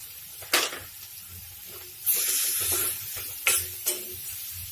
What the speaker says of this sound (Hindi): और इसे हम 2 मिनट के लिए भूनने देंगे।